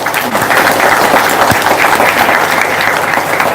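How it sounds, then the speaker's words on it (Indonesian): Audience applause at an Indonesian comedic Islamic sermon marking Heroes' Day, steady dense clapping from a crowd that fills the whole stretch at even loudness. "Tepuk tangan."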